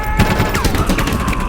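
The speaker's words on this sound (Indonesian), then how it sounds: "salah satu pemain yang bernama Motoya, dia terkena tembakan Isesadi" Dense automatic gunfire rattles through a tournament of hired killers in the film The Tournament. The bursts are loud, close and rapid, with a few ricochet-like whines among them.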